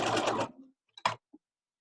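A sewing machine stitches the seam of a fabric face mask, closing elastic between the binding and the mask: a quick, steady mechanical whirr runs for about half a second, then stops, followed by a few faint clicks.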